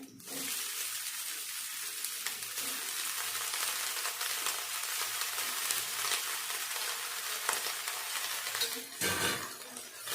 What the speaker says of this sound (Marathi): भाजी छान परतून घेते मी।